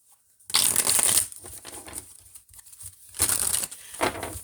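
A deck of tarot cards is shuffled close up in two crisp riffling bursts separated by softer handling, followed by a short final riffle.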